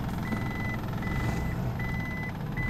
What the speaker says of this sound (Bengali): দেখার পরে আমি ব্যাগে যাচ্ছি